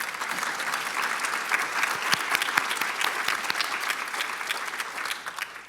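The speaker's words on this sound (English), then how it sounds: "let's have another round of applause to thank all the former deans of the school" Sustained applause from a large audience at a 60th anniversary celebration of a university social work school, honoring former deans; dense, steady clapping throughout with no speech.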